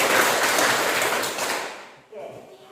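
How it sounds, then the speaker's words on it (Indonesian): Students in a classroom clap together for a couple of seconds, a dense burst of applause that fades away, followed by a faint knock. "Mari kita berikan tepuk tangan terlebih dahulu"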